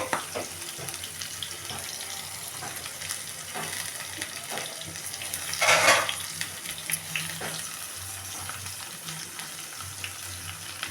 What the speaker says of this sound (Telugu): ఇదిగోండి నూనె అయితే వేడైపోయింది. ఉల్లిపాయలు, పచ్చిమిరపకాయలు అయితే వేసుకుంటున్నాను.